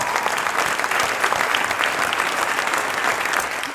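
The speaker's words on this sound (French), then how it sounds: "on peut les applaudir encore très très fort" Warm, continuous applause fills a hall at a sailing awards ceremony at the Paris boat show, honoring an SB20 world champion crew; many hands clap at an even, strong level, tapering slightly at the close.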